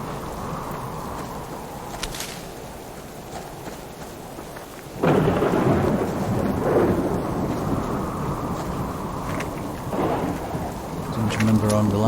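Thunderstorm with steady rain falling on a surface, a soft hiss that swells abruptly into a heavy downpour with rumbling thunder partway through, continuing loud to the end.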